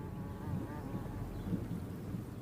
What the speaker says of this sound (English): An experienced bee knows it's time to head home